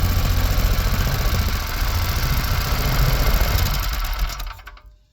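A cheap $15 small engine with WD-40 mixed into its fuel runs steadily up close, a buzzing, rattly idle that holds for several seconds before cutting off and fading out at the end.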